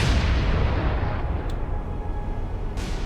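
Secondary naval guns fire from a warship in the War on the Sea game, making a dense, continuous barrage of loud booming rumble with sharp cracks mixed in.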